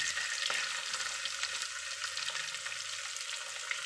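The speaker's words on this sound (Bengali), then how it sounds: "এটা দেখো ভাজা ভাজা হয়ে গেল, আমি আরেকটু ভেজে নিচ্ছি। ভালো করে নাড়াচাড়া করে নিলাম।" Pumpkin, potato and chickpea curry frying in a pan gives a steady, fairly soft sizzle with light occasional stirring taps throughout, close by and without speech.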